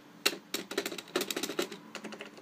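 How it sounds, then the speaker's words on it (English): A budget semi-mechanical keyboard with a not-very-mushy feel is typed on up close, with quick clusters of keystrokes separated by short pauses. "Now here we have our potato keyboard"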